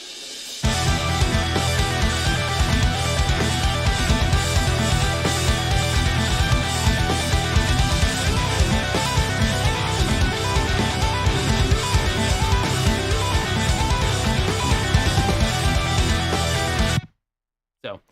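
A rough mix of a song intro with layered guitars and synths, dense and continuous at full level for most of the stretch before cutting off abruptly near the end.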